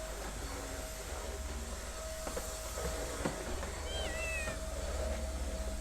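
A cat meows a couple of times near the end, faint against steady background noise and a constant low hum.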